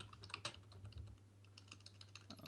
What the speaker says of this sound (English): Or I'll wait until Devindra finishes typing.